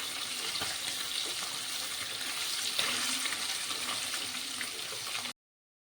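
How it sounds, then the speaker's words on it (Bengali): Snakehead fish pieces fry crisp in hot oil with a dense, continuous sizzle and occasional stirring bumps, close and loud until an abrupt cutoff. "মাছগুলোকে আমি একটু কড়া করে ভেজে নেব।"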